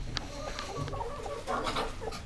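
Hens cluck in short, busy bursts, several birds close by with a steady farmyard rustle underneath.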